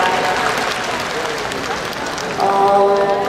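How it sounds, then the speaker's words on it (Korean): An audience at an open talk for the drama LTNS at the Busan International Film Festival applauds, a dense, continuous patter of clapping that swells louder near the end. "박수 부탁드립니다."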